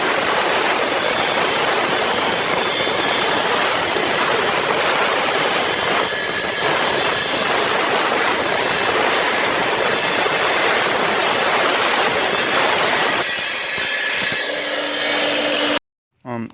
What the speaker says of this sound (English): use a diamond blade on a grinder designed for that type of purpose